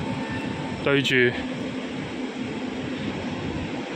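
A Hong Kong tram rumbles steadily past a tram stop in Sai Wan, a low continuous roll under street noise, with a brief spoken phrase near the start.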